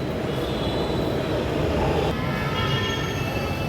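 A train moves through Yeshwantpur railway station in Bangalore, giving a close, loud, continuous rolling rumble with faint metallic wheel squeal layered on top and no voices.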